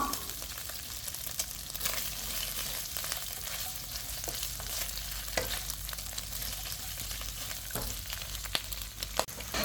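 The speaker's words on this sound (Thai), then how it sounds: "จากนั้นเราก็ใส่กระเทียมลงไปผัดได้เลยผัดให้หอมได้เลยจ้า" Garlic being stir-fried with pork belly in its rendered fat, a steady broadband sizzle with soft scraping stirs throughout, fairly close and without speech.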